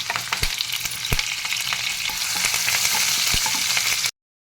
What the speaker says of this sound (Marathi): तेल तापलेलं आहे जिरे घालते मिरच्या घालते कढीपत्ता घालते